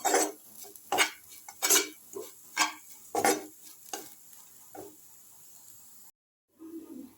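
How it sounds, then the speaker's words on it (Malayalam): Grated coconut roasts in a pan with cinnamon and fennel, scraped by a spatula in about eight rhythmic stirring strokes over a faint sizzle, then a brief silence and one last soft scrape. "തേങ്ങ ഒന്ന് നന്നായിട്ടൊന്ന് മൂപ്പിച്ചെടുക്കണം"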